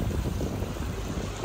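A boat's engine idles low and steady while trolling slowly on a debris-strewn lake, a constant low rumble with wind buffeting the microphone throughout.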